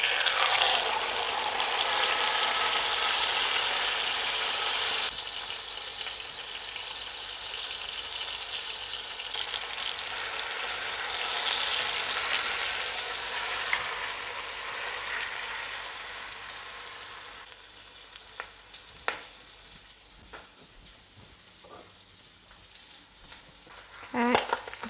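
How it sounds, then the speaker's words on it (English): Pork sears in hot oil in a pot, a loud continuous sizzle and crackle that eases after several seconds, followed by quieter frying with occasional clinks and stirring, without talk. "The oil is nice and hot, and so now I'm going to sear the pork."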